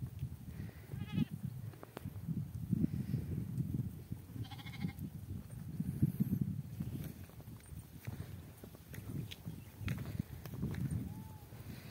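Goats grazing outdoors in rainy Konkan countryside, a few faint scattered bleats among soft footsteps and rustling, with a person talking at times.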